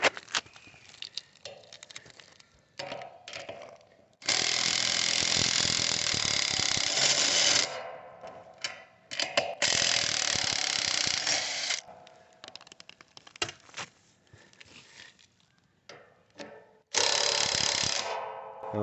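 A ratchet wrench clicks rapidly in several bursts of a few seconds each while loosening the bolts on a roof-mounted satellite dish, close and loud, with scraping and handling noises in between.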